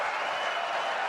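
A crowd applauds and cheers in a brief, dense burst of clapping, loud and continuous throughout.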